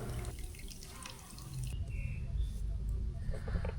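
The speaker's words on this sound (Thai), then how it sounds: "เราเปิดฝาแล้วเราเทน้ำทิ้งไปเลยครับ" Liquid being poured out of an old car battery after the caps are opened, a steady trickling and splashing that runs throughout under a noisy background, growing slightly louder in the second half.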